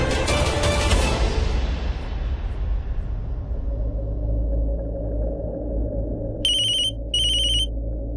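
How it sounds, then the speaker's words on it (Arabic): A telephone rings in a drama scene, two short electronic ring bursts cutting in after a deep rumbling swell dies away to a low hum. "تليفون مين عم بيرن؟"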